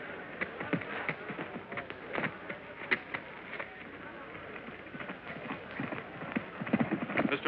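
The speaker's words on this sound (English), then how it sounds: "Mr. Tom Ford and his horse Champion" Horse hooves clip-clop on a stage in a staged western scene with a rider and his horse, a steady run of moderately loud clopping beats over background noise.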